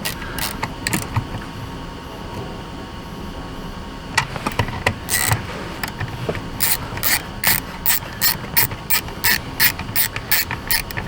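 A socket ratchet wrench clicks while tightening terminals on a Jeep Grand Cherokee battery, first in scattered clicks, then in a quick regular series of loud close bursts.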